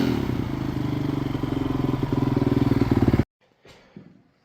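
The engine of a BVC trike in need of a rebuild runs loud and close with a fast, steady clattering pulse, then cuts off abruptly, leaving a few faint knocks and rustles.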